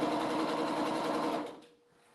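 Sewing machine chain piecing quilt block pieces for a nine-patch, a steady close whirring stitch run that slows and stops after about a second and a half, with no talk.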